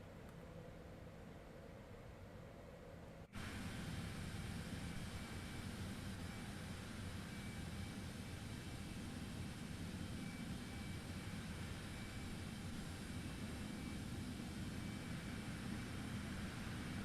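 The jet engines of a Cessna Citation X in Microsoft Flight Simulator 2024 give a steady, loud broadband roar. It starts suddenly after a quieter hum and holds unchanged to the end.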